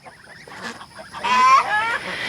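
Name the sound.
geese honking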